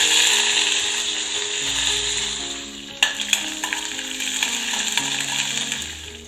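A little curry leaf, urad dal and mustard seeds sizzling and frying in hot oil in a kadai as tempering for thanni chutney, a steady frying hiss with a few sharper crackles and stirring clicks midway.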